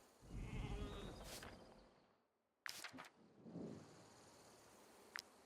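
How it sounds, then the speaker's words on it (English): Sheep in a sheepfold in the video game Wartales bleat in a couple of drawn-out, moderately loud calls, separated by a brief silence and a few sharp clicks. "Let's take a look at what's happening in Shira's sheepfold now that we haven't slaughtered the sheep."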